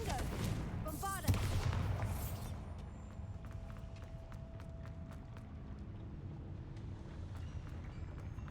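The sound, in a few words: Confringo and Bombarda curse spells cast in a video game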